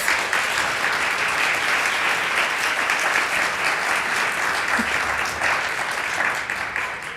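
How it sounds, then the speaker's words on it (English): Sustained, dense audience applause at a graduation celebration, honoring the opening speakers; a steady, loud wash of many hands clapping that holds evenly for the whole span without talk. "Let's have a big round of applause for all of those opening speakers."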